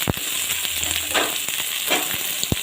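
Small shallots hiss and sizzle in a hot pan with a little oil for a Kerala beef fry, a steady close crackle broken by a few sharp ticks and pops.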